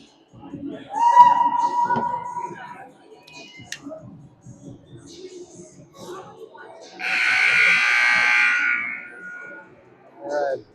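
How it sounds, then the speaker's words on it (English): A loud, sustained electronic buzzer blares for about two seconds amid ice hockey arena crowd noise and people talking at a junior varsity game, following an earlier shorter tone. "All right, buzzer sounds, and we're ready to play hockey again."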